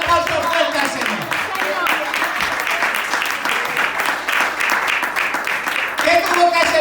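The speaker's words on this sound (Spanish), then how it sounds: "Dale un aplauso fuerte al Señor" A church congregation claps loudly and steadily at a bilingual service, a dense burst of applause with voices and shouts mixed in, tapering briefly before rising again at the end.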